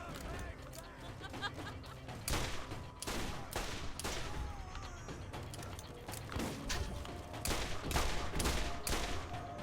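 Shotgun fire in the video game Borderlands, a rapid series of loud blasts at irregular intervals over a busy game soundscape, with people talking throughout.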